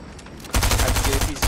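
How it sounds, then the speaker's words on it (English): Rapid gunfire in a Fortnite shootout bursts in after a half-second of low background, continuing as a loud, close, rattling volley with a brief dip before resuming. "Why are they all shooting me?"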